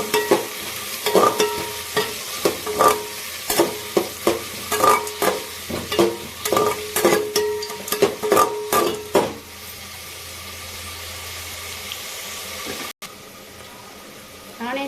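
Prawn biryani masala being stirred in a frying pan: a spoon scrapes the pan in quick, repeated close strokes with a hiss underneath, then the stirring stops and a steady sizzle carries on.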